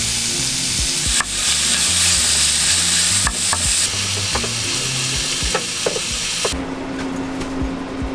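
Al pastor meat sizzles and fries steadily in a pan at a camping setup, with close stirring clatter and scraping of a utensil against the pan throughout.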